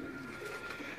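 A Sheikh-breed pigeon from Sialkot gives a brief, soft, low coo, faint and close, lasting about a second.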